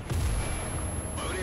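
Tank cannon fire from a War Thunder battle involving a Panzer 4: a loud, low, rumbling blast with a booming tail, followed by continued low rumble and battlefield noise.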